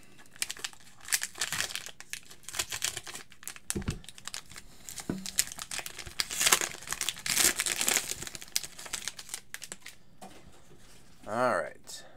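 Foil-wrapped 2018-19 Donruss soccer card packs being torn and crinkled open, with bursts of crisp crackling and tearing close by, mixed with people talking throughout.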